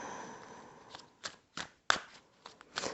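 Soft riffling of playing cards being shuffled in the cold, followed by several sharp, separate taps and snaps as the deck is squared, quiet and close.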